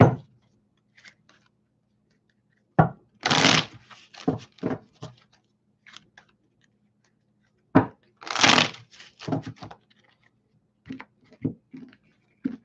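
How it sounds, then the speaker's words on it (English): Tarot cards are shuffled in two distinct bursts, each a sharp riffle followed by scattered soft taps and clicks against a quiet background, with no talk. "Trying to really get these cards shuffled up too."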